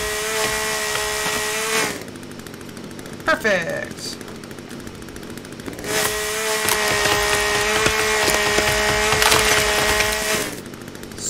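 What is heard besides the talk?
chainsaw cutting wood in The Forest video game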